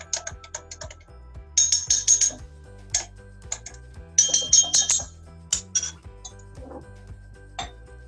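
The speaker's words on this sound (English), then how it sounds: "So now you have to stir it." A spoon stirs pasta in a metal pot, giving irregular clinks and scrapes of metal on metal close by. Several quick bursts of clatter stand over a low, constant hum, and no one speaks.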